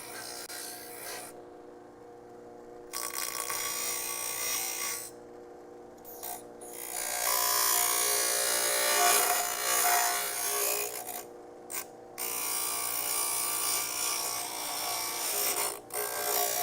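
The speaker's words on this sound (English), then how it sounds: "the bench grinder is just it's a sandpaper wheel that spins around really, really fast" A bench grinder's spinning sandpaper wheel rasps against a metal piece in several bursts of grinding separated by short pauses, fairly close, with a steady mechanical whir underneath and no talking.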